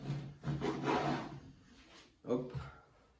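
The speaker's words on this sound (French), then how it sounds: "j'utilise un couteau aussi pour avoir une belle découpe bien propre" A knife rasps and scrapes through a thick block of cookie dough, a close, rough rubbing drawn out over a second or so and then a shorter second cut, with a voice talking over it.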